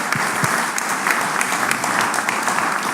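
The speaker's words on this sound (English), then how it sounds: "Let's give JP a round of applause" Business round table audience applauding a panel moderator: dense, lively clapping from a roomful of people, steady and close throughout the short stretch.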